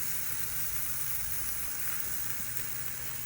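Thin sliced ribeye steaks sizzle on a grill at a Tex-Mex carne asada cookout, a steady, dense hiss of frying fat running unbroken and close, with no voices.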